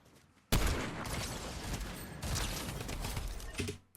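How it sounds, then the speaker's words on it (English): Gunfire in a Fortnite Zero Build ranked solos match breaks out suddenly as a burst of rattling shots. Sustained volleys follow, moderately distant, then cut off abruptly near the end. "He hears gunshots off in the distance."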